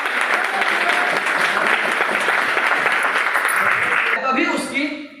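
An audience at a motivational talk breaks into dense, loud clapping that holds steady for about four seconds, then thins out and fades as the clip ends.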